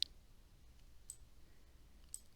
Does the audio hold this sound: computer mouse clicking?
yes